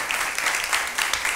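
A church congregation applauding to welcome a visitor, a brief burst of dense, even clapping at moderate volume with no talk over it.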